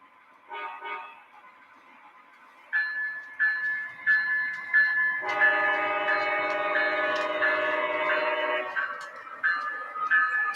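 A Christmas model train running on its track with two extra cars added gives repeated toots and a long sustained horn blast, clear and fairly close with no talking.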